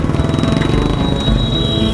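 A Honda CBR 150R motorcycle engine chugs along in second gear, a loud, close, steady fast thrum with a thin whine on top and no talking.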